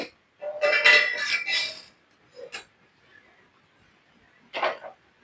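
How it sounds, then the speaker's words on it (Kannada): A few metallic clanks and knocks as a frying pan is set down on a kitchen stovetop, a short quiet pause, then one more clatter. "ನಾನು ಬಾಣಲೆ ಇಟ್ಕೊಂತ ಇದ್ದೀನಿ"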